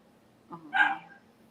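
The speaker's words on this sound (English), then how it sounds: "You hear my puppy?" A puppy gives a single short bark at close range, a brief yip followed by a louder bark over a quiet room.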